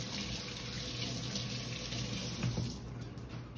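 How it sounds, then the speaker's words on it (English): Tap water runs into a kitchen sink while hands are washed beneath it, a steady close hiss and splatter that thins and shifts near the end with small splashes. No one speaks. "I'm gonna wash my hands."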